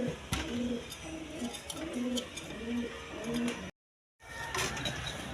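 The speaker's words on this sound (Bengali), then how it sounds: "এইখানে এক পেয়ার বাঞ্জা কবুতর আছে" Pigeons at a farm coo in repeated low rolling calls close by, with a brief dropout of all sound near the end.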